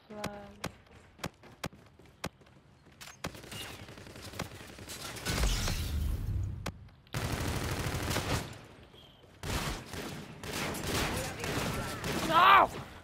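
Shotguns and other guns fire in Call of Duty Infinite Warfare, starting with several sharp single shots and moving into denser bursts of gunfire and movement noise, with a player talking in places.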